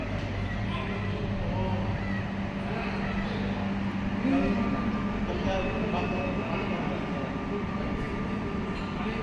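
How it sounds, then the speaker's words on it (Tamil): A toy train rumbles steadily at Mettupalayam railway station in India, with a continuous rolling drone and faint clatter, while people talk quietly in the background. "டாய் ட்ரெயினில் போகிறோம்."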